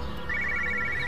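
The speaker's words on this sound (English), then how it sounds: "I hear a phone." A car phone rings inside a vehicle in the video game Everybody's Gone To The Rapture, a steady electronic trill that starts a moment in and keeps going over a low ambient hum, moderately loud and alone.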